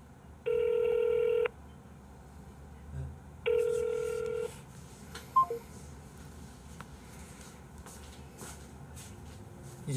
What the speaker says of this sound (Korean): 전화 연결됨.